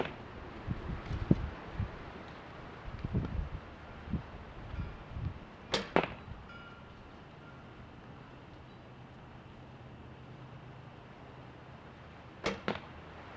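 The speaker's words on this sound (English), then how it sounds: "select what arrows I'm going to use and draw them out" Arrows are drawn from a traditional American Indian quiver and nocked, giving quiet, close shuffling rustles and two crisp wooden clicks spaced several seconds apart in an otherwise hushed space.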